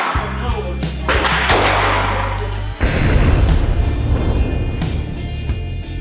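A Smith & Wesson CSX pistol fires at an outdoor shooting range, sharp loud cracks going off several times at uneven intervals, each shot trailing a brief booming echo across the range.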